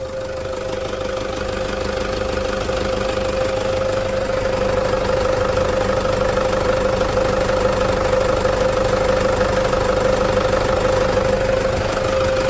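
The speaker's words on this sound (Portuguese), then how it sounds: "Vou gravar um motor desse e botar de canção de ninar pra mim." A Toyota SW4 diesel engine idles close up with a steady, even diesel clatter and a constant hum, running alone and unchanging throughout.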